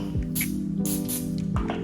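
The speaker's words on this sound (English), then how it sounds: "I got some olive oil spray that I'm going to spray my pans with, and I'm gonna spray my steaks with" Olive oil cooking spray hisses in three short bursts over pans and steaks, each spritz quick and close against a steady low kitchen hum.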